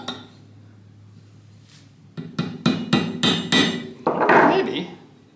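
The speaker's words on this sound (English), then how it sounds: "maybe I can tap it in there with a" A hammer taps an Allen wrench into a misshapen, bent screw on a rusty Atlas 10-inch saw, giving about six sharp metallic clinks in quick succession after a quiet start, then a scraping rattle. Close and fairly loud.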